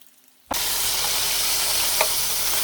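Beijing beef dropped into a hot pan, silence broken by a sudden loud burst of frying that settles into a steady, dense sizzle close by, with one small pop partway through.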